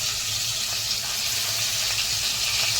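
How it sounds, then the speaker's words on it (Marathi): Stuffed brinjals fry in hot oil inside a pressure cooker, giving a steady, close, continuous sizzle throughout with no voices over it. "तेल एकदा गरम झाल्यावर आपण जी भरलेली वांगी घेतलेली ती आपण अशा प्रकारे उभ्या पद्धतीने लावून घेणार आहे"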